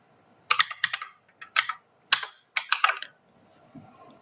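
Fingers typing on a computer keyboard while entering code, in quick bursts of clustered keystrokes separated by short pauses, close and clear with no talking.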